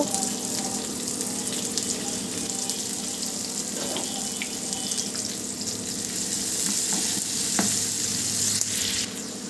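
Onion frying in a pan while cooking lau shak with shrimp, a continuous crackling sizzle with occasional stirring scrapes and clinks near the microphone.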